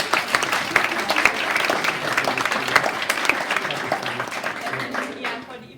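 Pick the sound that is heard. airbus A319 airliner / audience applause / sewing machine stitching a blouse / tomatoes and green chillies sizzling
audience applause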